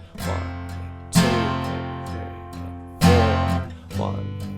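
Soft guitar chords strummed only downward in a steady pattern, with the strokes on beats two and four accented and ringing louder than the rest, played close and alone.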